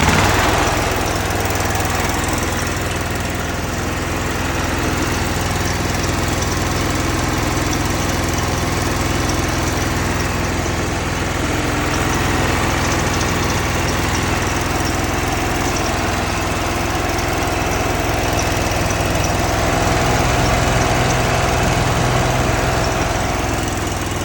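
A Kohler V-twin lawn mower engine runs steadily at a constant speed, a loud, close, continuous drone with a rough throb and no pauses, and no voices over it.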